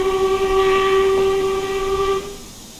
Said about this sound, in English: Whistle sounds pretty good.